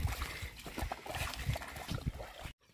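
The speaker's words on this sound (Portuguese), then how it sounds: "Olha o barulho. Agora vai chegar a água lá no barreiro." Rainwater runoff rushes and gurgles steadily nearby in Cachoeirinha, Pernambuco, Brazil, a busy splashing flow that cuts off abruptly at the end.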